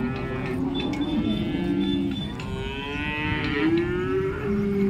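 A black cow at the Modnimb cattle market lets out long, deep, loud moos close by, the calls rising and falling and running almost continuously over faint market background.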